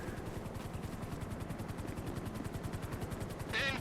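A helicopter in the GTA video game gives off a rapid, steady rotor thumping, evenly pulsed and fairly close, with a brief brighter burst near the end and no speech over it.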